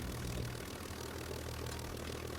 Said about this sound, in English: Now we turn on the engine.